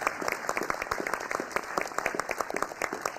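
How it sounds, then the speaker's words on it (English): A crowd at a city council meeting claps in a dense, steady patter of applause, moderately loud and continuous for a few seconds. "let's give former Councilman Weekly an applause"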